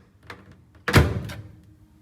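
An LG microwave oven door shuts with one solid thunk, close and fairly loud, preceded by a faint click and followed by a short rattle as it settles.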